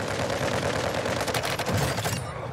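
Rapid gunfire from the video game Call of Duty Warzone 2 crackles in dense, overlapping bursts throughout a short stretch at moderate distance, with no talking.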